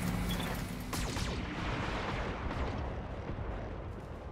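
An alpha strike in the BattleTech video game, with several mech weapons firing at once: a loud opening barrage of booming shots and crackling impacts that rolls into a long rumbling tail, no talk.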